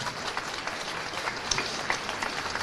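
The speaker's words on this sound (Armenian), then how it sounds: "ես ուզում եմ դուք ծափահարեք ինքներդ ձեզ" Parents clap for themselves at a gathering: a steady wash of applause from a crowd, moderately distant and fairly quiet, with a few sharper individual claps standing out.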